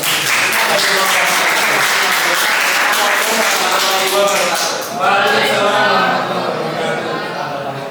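Applause from a classroom of students after group presentations, a dense steady patter of many hands clapping that holds for several seconds before easing slightly, with voices mixed in beneath.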